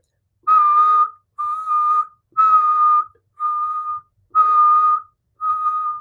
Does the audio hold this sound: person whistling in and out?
yes